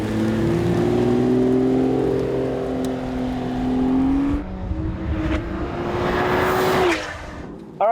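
A Toyota Supra MkV fitted with an upgraded clutch revs and pulls away, its engine note climbing steadily through the gears before easing off, loud and close throughout.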